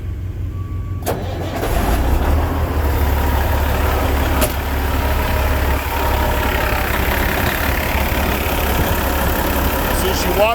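A Freightliner Century Class truck with a Detroit 60 Series diesel cranks and catches after a sharp click, then settles into a loud, steady low rumble of idling. A voice is heard partway through.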